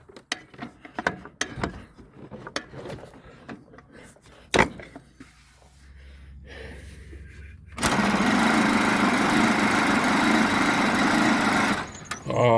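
A 1927 Pirsch fire truck engine attempts to start: scattered clanks and sputters of cranking, then the engine catches and runs with a loud, steady, rough roar for several seconds before briefly cutting.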